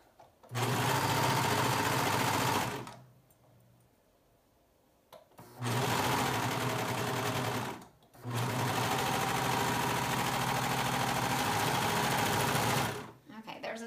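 A sewing machine runs in three long steady bursts while stitching a dress arm seam deeper, each run a fast even whirr broken by brief pauses.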